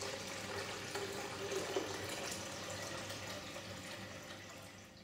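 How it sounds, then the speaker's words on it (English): Water running into the tank of a De'Longhi Icona coffee machine, a steady, soft rushing and trickling stream that continues evenly with no talk over it. "Alternatively, you can fill the water tank from a stationary position."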